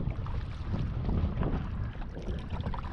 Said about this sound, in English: was this wind, because it's just like a wind tunnel through here